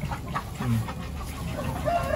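Chickens cluck and murmur in a coop set above duck and muscovy duck pens, several birds heard close and fairly loud in a continuous, busy chatter with no talk.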